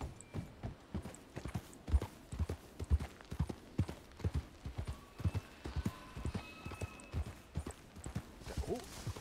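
Horse hooves clip-clop in a steady, uneven rhythm through Red Dead Redemption roleplay, close and fairly loud, with a faint tone or two in the background and no talk.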